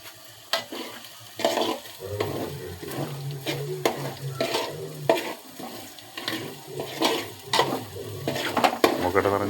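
Turmeric powder and spices frying and being stirred in a pan, with steady sizzling under repeated scraping strokes of a spoon and occasional clinks against the metal, close and moderately loud with no talk.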